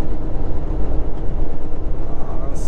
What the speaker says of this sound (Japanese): すごい長い貨物列車がね、川の向こう岸対岸を走ってるんですけど